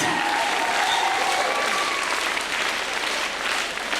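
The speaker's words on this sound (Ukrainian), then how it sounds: "Ваші оплески і Сузір'я Едельвейс" An audience applauds dance performers at a televised dance show, Yuriy Kobiv with the Suzirya Edelweiss ensemble: steady, dense clapping from a large crowd, loud and sustained throughout, with a faint tonal layer underneath.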